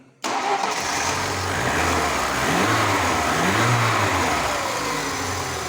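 A Lada Niva's petrol engine starts, then revs up and down in repeated swells, loud and close, with no talk over it.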